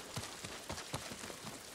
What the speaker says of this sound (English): You hear the rain on the roof?